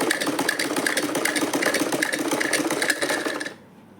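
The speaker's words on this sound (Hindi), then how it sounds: "यहाँ पर स्टिचिंग कर लेंगे। हम इस तरीके से हम इस पर सिलाई कर लेंगे।" A sewing machine stitches fabric and a zipper for a homemade side purse, a fast close rhythmic whirring clatter running steadily for about three and a half seconds before stopping abruptly.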